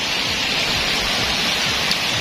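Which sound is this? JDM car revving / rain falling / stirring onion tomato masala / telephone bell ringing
rain falling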